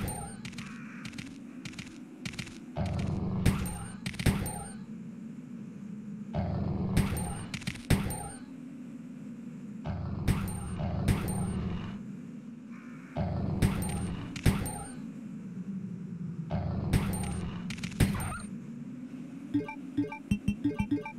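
Dogs growling and gunfire in the PS1 game Resident Evil 2, with repeated sharp bursts of shots cutting through a steady low rumble of snarls, loud and close throughout.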